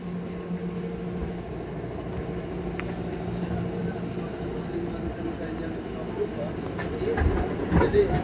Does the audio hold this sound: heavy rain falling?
no